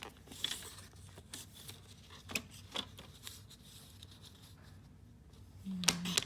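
Designer paper being cut for a lattice card, a string of soft, close slicing and rustling sounds with sharper paper snaps near the end, faint and without talk.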